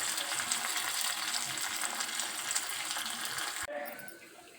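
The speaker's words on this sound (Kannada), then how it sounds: "ಈ ಒಂದು ಒಗ್ಗರಣೆಯನ್ನು ಹಾಕ್ಕೊಂಡು ನಾವು ಇದನ್ನು ಕೆಂಪಗಾಗಬೇಕು ಫ್ರೆಂಡ್ಸ್." Garlic, mustard seeds and cumin frying in hot oil for a tempering, a close, steady crackling sizzle that drops abruptly near the end, with no talking.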